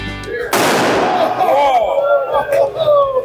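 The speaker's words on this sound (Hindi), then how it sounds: "पटाखे चलना शुरू हो गए।" Firecrackers set off in the streets of Nepal during Diwali, a sudden loud burst followed by crackling and whistling fireworks, with people's voices and festive street noise around it.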